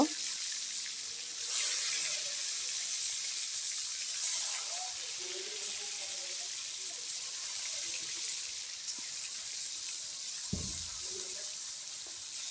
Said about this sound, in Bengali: এখন মাছগুলো আগে ভেজে নেব